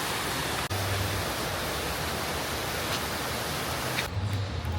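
An indoor waterfall inside a store gives off a steady, full rushing wash of falling water, close and continuous throughout, with no voices over it.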